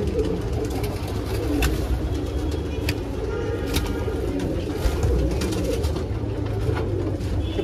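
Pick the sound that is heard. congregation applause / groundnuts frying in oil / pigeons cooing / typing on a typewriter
pigeons cooing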